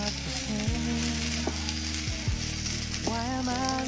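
Homemade ham and cheese takoyaki sizzle steadily in a pan, a constant close frying crackle with soft tonal music underneath.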